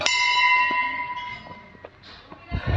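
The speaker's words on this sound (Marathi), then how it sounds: "घंटी" A Hindu temple bell at the Hardada Mahadev temple is struck once and rings out with a long, bright sustained tone that slowly decays, with a few faint knocks and rustles around it.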